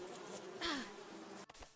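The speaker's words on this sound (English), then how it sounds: "Okay, so we can see bees here." Bees buzz around a tree in the western survival game Above Snakes, a close droning hum with a brief swell partway through and a small thud near the end.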